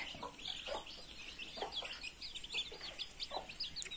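Several chickens and small chicks cluck softly and repeatedly close by while eating rice grain, with faint pecking and chirps under a low background hum.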